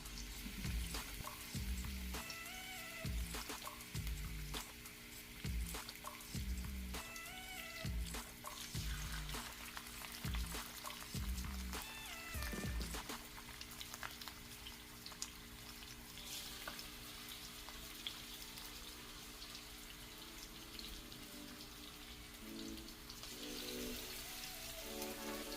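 Marinated salmon pieces fry in a hot pan with a steady, dense crackling sizzle throughout, while a repeating musical pattern plays over the first half.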